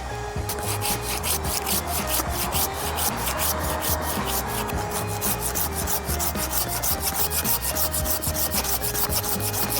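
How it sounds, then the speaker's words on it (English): A handsaw cuts through wood in fast, even back-and-forth strokes, the rasping rhythm loud, close and continuous throughout, with no talking. "We'll probably peel this one out with a handsaw as well."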